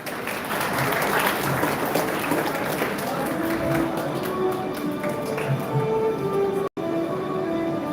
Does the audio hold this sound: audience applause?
yes